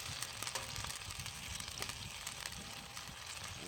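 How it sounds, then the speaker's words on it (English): Beef rib and pork rib meat sizzles steadily on a hot skillet, a continuous close crackling hiss with small pops throughout. "Alright, you hear that sizzle?"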